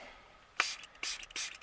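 A spray bottle mists water onto watercolor paper in three quick hissing bursts, close and fairly loud.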